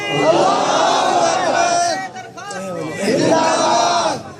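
A crowd at a religious gathering shouts a chant in unison in reply to a call, two loud bursts of massed voices separated by a short pause.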